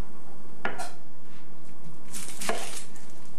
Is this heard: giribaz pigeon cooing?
no